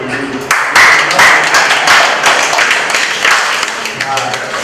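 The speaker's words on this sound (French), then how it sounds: "je pense qu'on doit quand même applaudir" Audience applause breaks out at a reunion of the AEEP association, a dense, steady patter of clapping hands that stays loud and fairly even for several seconds.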